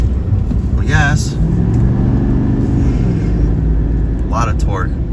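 A 2024 Chevy Silverado 2500 ZR2 Bison heavy-duty pickup accelerating on a wet road, a loud continuous low engine drone and road rumble from inside the cab, with brief bits of voice over it.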